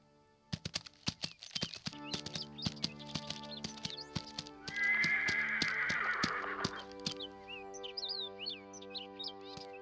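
Horse hooves clip-clop in a steady rhythm while a horse gives a long neigh midway, with birds chirping toward the end, a story sound effect over light music.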